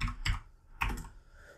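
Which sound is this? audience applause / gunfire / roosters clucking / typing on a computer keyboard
typing on a computer keyboard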